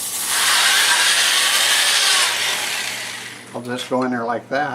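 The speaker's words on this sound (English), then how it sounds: "so I'll sand those by hand like this" Hand sanding of a wood-turned multi-axis bowl, a steady loud abrasive hiss for a few seconds that fades out, followed by someone talking.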